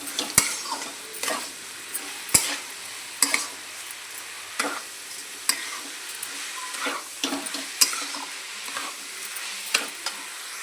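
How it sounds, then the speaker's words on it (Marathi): Pumpkin and coconut barfi mixture with sugar and milk stirred in a pan over low heat, a soft steady scraping and light sizzle broken by sharp periodic clinks of the spoon against the pan, close and alone. "आणि कमी गॅसवर आता मी मिक्स करत आहे."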